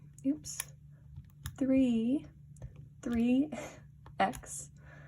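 A handful of sharp key clicks on a calculator as an equation is typed in, scattered between stretches of a person talking.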